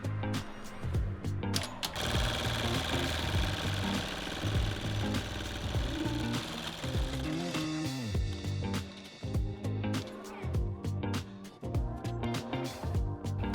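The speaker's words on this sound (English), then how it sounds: "we go ahead and set the first color, and it's going to stitch a parameter, and that's going to be the outside of the patch" An embroidery sewing machine stitches the perimeter of a patch with rapid, loud, rhythmic mechanical thumping and clatter that continues throughout, close up and without speech.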